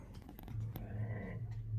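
Two Airedale terrier dogs make low growling and whimpering sounds, close but faint, with a couple of sharp clicks and no speech.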